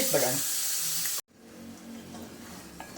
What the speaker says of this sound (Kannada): ಇದು ಈಗ ಚೆನ್ನಾಗಿ ಬಾಡಿಸ್ಕೊಂಡು ಸ್ವಲ್ಪ ಮುಚ್ಚಿಟ್ಬಿಡೋಣ ಚೆನ್ನಾಗಿ ಟೊಮೆಟೊ ಹಣ್ಣಾಗಬೇಕು